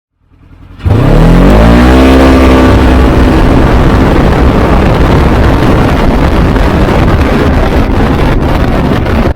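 Polaris RZR Trail 900 side-by-side, a 50-inch trail model with a 900cc engine, fires up and revs hard, a loud continuous engine roar rising in pitch then holding steady with wind noise, close and alone.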